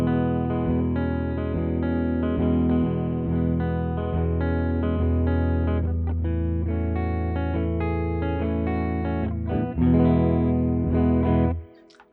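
Distorted Fender Gold Foil Jazzmaster on the neck pickup through the Mixwave Benson Chimera amp plugin with Tall Bird reverb, sustained chords and notes ringing richly before cutting off at the end.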